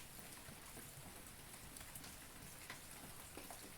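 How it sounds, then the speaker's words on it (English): Heavy rain falls steadily as a dense, continuous hiss with scattered drops pattering on surfaces. It is fairly faint and distant, with no voices. "It is raining so hard right now."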